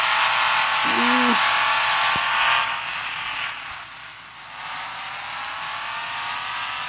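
A truck engine drones steadily in the Offroad Outlaws video game, a sustained mid-pitched hum that dips partway through and then holds at a lower level, with no talking.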